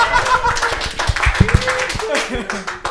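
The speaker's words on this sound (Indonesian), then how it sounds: "Ya tepuk tangan dulu ya." Scattered audience clapping at an Indonesian stand-up comedy show, a few sharp claps mixed with chuckles and a talking voice over brief, uneven bursts.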